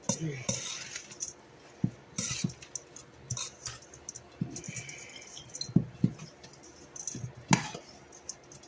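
Onion and celery being stirred in a pan, with scattered clinks and scrapes of a utensil against the pan arriving in irregular bursts over a soft background, close and fairly quiet.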